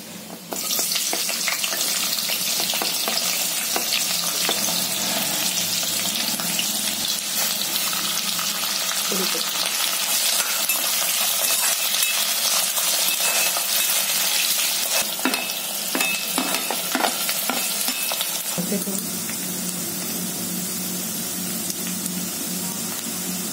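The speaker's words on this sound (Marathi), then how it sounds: "आता मी हे कांदा घालते याच्यामध्ये" Chopped onion fries in a pan for a ridge gourd curry, a loud, close, continuous sizzle that eases to a lower, steadier hiss near the end, with no voices.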